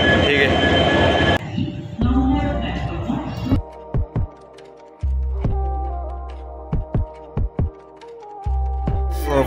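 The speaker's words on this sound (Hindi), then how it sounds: "ट्रेन को आने दो, ट्रेन आएगा" A train arrives at a station, with a loud, broad rumble at first, then a series of heavy rhythmic thumps of wheels over rail joints as it slows. A faint voice is heard early on.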